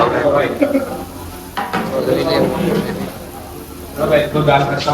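Paneer fries in hot oil in a restaurant kitchen, a steady crackling sizzle with stirring and scraping, while people talk over it.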